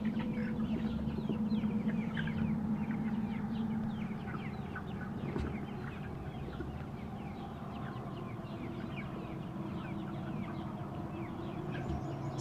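Sebright chicks and Brahma chickens clucking and peeping together in a coop on a damp, cool day, a continuous soft chorus of overlapping calls close by.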